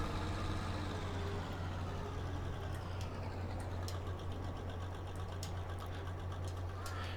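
A tractor engine idles in Farming Simulator 22 on a snowy day, a steady low drone with a constant hum and light clicking on top, loud and continuous with no talking.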